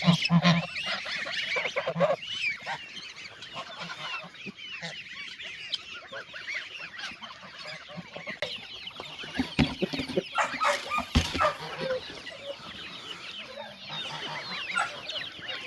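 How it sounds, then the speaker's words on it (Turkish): Chickens, including Indian breed hens, cluck and chatter continuously in a busy farm flock, with scattered squawks and rustling nearby. "Bakın arkadaşlar aralardan orijinal Hint tavuklarımız da çıkıyor."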